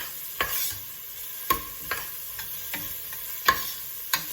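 Onions and garlic frying for a minced beef stew make a quiet, steady sizzle. About seven sharp utensil scrapes and taps land at irregular intervals as the pan is stirred. No voices.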